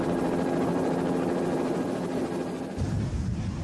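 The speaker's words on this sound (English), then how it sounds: "Mark Davies can't just watch from the safety of the helicopter" Helicopter flying near an active volcano, a loud, close, steady rotor and engine drone with a rhythmic beat that shifts in tone near the end, with no voices.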